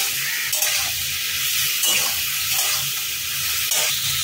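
A spoon scrapes and stirs spiced potato and pumpkin for a Bengali mixed-vegetable labra in a frying pan, producing a steady sizzling hiss broken by repeated rhythmic scraping strokes, close up with no speech.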